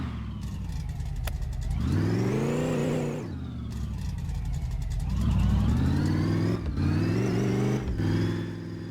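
An 80s GMC truck engine in a driving video game revs loudly and repeatedly, the note climbing and falling through gear changes in a steady, continuous drone with no talk.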